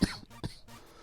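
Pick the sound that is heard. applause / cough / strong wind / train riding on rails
cough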